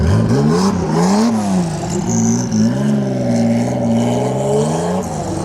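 A Porsche race car engine revs hard and pulls away at a Porsche racing event, its loud rising and falling roar filling the clip with no talking.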